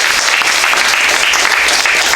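Loud, dense applause from a reception crowd at a Gullah Geechee art show honoring the founder of the family foundation, a continuous close wash of clapping with no break.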